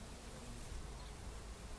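Honey bees buzzing around an opened hive during an inspection, a constant dense faint hum without pauses or voices.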